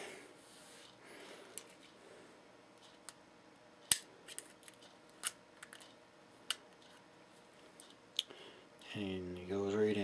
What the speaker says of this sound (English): just take a small little screwdriver